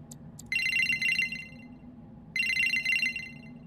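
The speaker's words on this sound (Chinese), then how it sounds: "没有任何一个人在半夜10点想接我的电话" A telephone rings unanswered in the horror video game Nu Gui Qiao: Kai Hun Lu, two loud electronic trill bursts separated by a pause over a low ambient hum.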